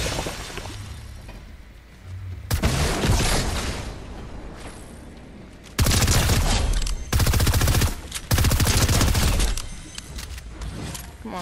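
Rapid-fire weapon shooting in Fortnite, loud bursts of dense automatic gunfire in several blocks separated by short gaps, with one long sustained volley, close and dominant.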